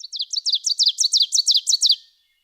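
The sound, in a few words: forest birds singing, ovenbird call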